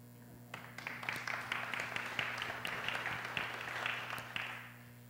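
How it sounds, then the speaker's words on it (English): An audience claps for a choir and percussion performance, steady applause swelling in after a brief quiet start, holding full for several seconds, then tapering off, over a low electrical hum. "You can clap for them again."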